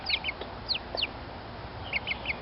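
A hen being kept in a clean cage with her sister gives a few short, bright clucks and chirps in quick bursts, fairly close and moderately soft over a quiet background hiss.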